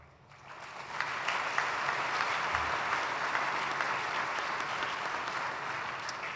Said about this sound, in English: You can save all that applause until I answer your questions properly